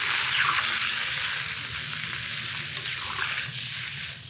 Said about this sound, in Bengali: এখনই ঝোলের জল দিই।